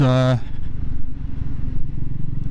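A Triumph Scrambler 400X motorcycle rides on a North Wales rideout. A brief voice is heard at the start, then a close, throbbing engine rumble continues on its own.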